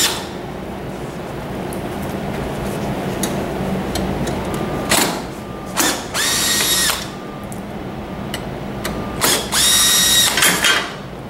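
A power driver backs screws out of a massage mechanism's metal frame, with several short whirring bursts between quieter handling clatter and clicks, close and distinct.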